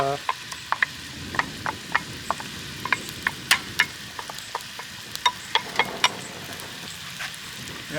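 Sweet peppers and onions for a sofrito sizzle and crackle in a frying pan, with dense popping and sharp ticks close up, like a stir-fry.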